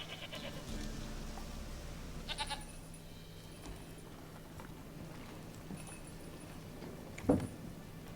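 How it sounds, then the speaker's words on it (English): Goat bleating in The Witcher III: Wild Hunt, a few short bleats over faint in-game ambience, with a sharper close cry near the end. "Milking the goat."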